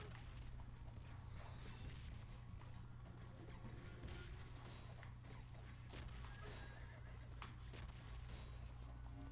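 Horse neighing in the Knight Squad video game, a whinny over busy game effects and hooves, with continuous background noise throughout.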